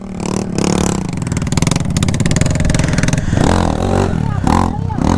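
A trail motorcycle in mud near Macaparana, Pernambuco, revs loud and close, its engine buzzing steadily before the pitch swoops up and down in hard throttle bursts; faint voices may sit underneath.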